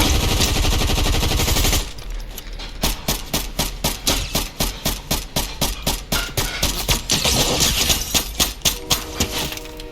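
Rapid gunfire in Fortnite, starting with a dense burst and then breaking into fast, evenly spaced shots in quick strings, loud and prominent throughout.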